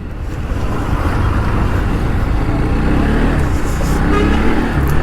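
Bajaj Pulsar NS 200 motorcycle with about 80,000 km on it and a freshly replaced clutch plate, ridden with a loud, steady engine drone and road rumble that builds slightly and holds close throughout.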